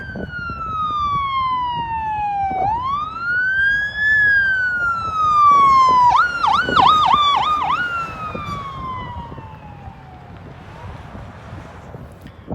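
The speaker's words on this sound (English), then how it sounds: "There you have it. Ambulance." A loud ambulance siren wails, sweeping down and up, then switches to a fast yelping pattern before fading, heard outdoors on an Albuquerque, New Mexico street over rushing wind noise.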